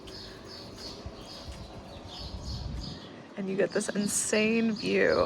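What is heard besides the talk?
loud birds singing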